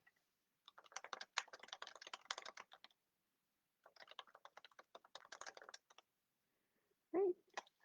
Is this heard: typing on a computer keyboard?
yes